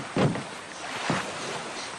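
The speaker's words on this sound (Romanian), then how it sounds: "aia nu e barca lui Zane" A boat on open water at night, heard as a short louder swell of motor or water noise near the start and a second softer swell later, over steady wind and water hiss with no talking.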